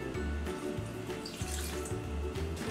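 Water pours steadily into a mixing bowl with a rushing, splashing wash, continuous and fairly close, with low thumps underneath and no talking.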